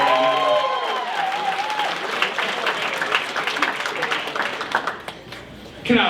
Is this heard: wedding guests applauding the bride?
yes